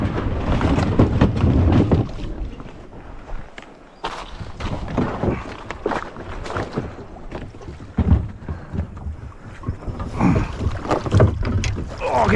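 A small kayak is boarded and launched, with hull knocks, scraping and water sloshing close to the microphone amid wind noise and a few grunts.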